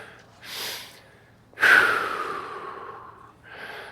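A person breathes heavily through push-up reps, with a sharp forceful exhale or snort-like gasp at mid-clip that trails off, plus softer breaths before and after, close to the mic.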